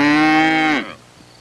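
A cow lets out one long, loud, close moo that holds steady for most of a second and then breaks off, leaving near silence.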